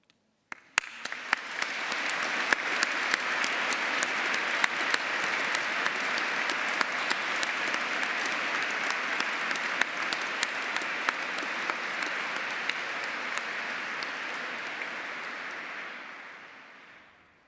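A large crowd at a graduation ceremony in Canterbury Cathedral applauds at length, sharp claps in the reverberant space quickly thickening into dense, even clapping that holds steady and then fades out.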